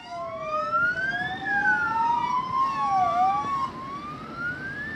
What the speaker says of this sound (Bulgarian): В момента на място пристига и екип с пожарен автомобил